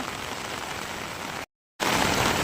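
Steady, dense monsoon rain pours down near the flooded Purna River with a constant hiss, broken by a short silent gap before resuming just as heavily.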